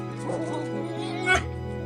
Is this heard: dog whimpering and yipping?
yes